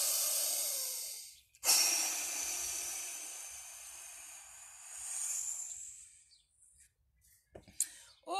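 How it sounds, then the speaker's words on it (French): A long, deep inhale through the nose during a morning breathing exercise, a steady airy rush lasting several seconds after a sharp start, then a pause and a few short breathy sounds. "Inspirez."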